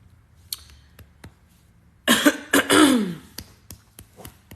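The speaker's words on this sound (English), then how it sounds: "I just had to clear my throat" A single forceful throat clearing, rough and close, set among scattered faint clicks and taps in an otherwise quiet space.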